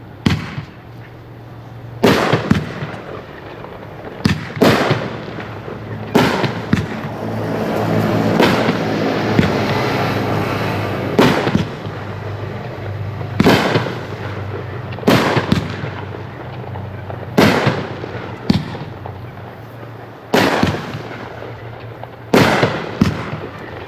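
A Bullseye Christmas in July 16-shot fireworks cake fires a string of loud sharp bangs, roughly one every second or two, with rumbling crackle in between and no voices.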